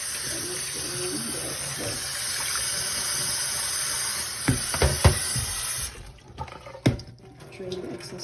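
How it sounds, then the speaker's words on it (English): Excess water drains from cooked turkey meatball spaghetti in a home kitchen, a steady rushing pour that runs for several seconds, then breaks into a few splashes and thuds. A voice speaks softly underneath. "Drain the excess water."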